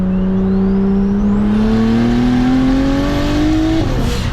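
A BMW 335is engine accelerates hard during a drive, its loud, steady drone rising smoothly in pitch through the rev range before easing off at the end, close and continuous with no talking.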